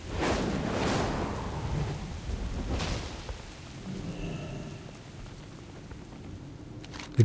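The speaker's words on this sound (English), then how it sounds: "It's the storm, isn't it, calling us?" Thunderstorm from the game World of Warcraft: steady rain over low rolling thunder that swells near the start and fades, moderately loud with no voices.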